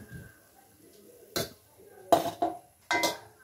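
A metal spoon clinks against a pan and vessel while unniyappam are lifted out and moved into the vessel, with several short, sharp knocks and scrapes at close range in a quiet kitchen.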